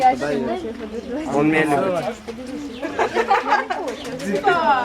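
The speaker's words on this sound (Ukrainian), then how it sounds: "Поштовий голуб знаходиться тут, його віддають, і потім він в будь-якому випадку повертається і ну, йде додому." Homing pigeons coo and murmur in soft, rolling throaty calls, close and continuous, with people chattering nearby.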